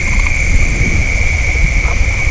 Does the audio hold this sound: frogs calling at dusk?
yes